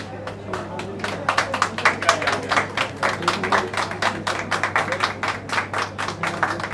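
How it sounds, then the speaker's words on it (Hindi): An audience claps at a stage event honoring a CEO and a manager, producing steady, dense applause that stays fairly even in strength throughout. "जोरदार ताली हो जाए।"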